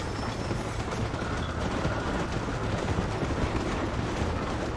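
Train rolling along in Red Dead Redemption, a steady dense rumble with rhythmic clatter from the cars, continuous and fairly loud throughout with no talk.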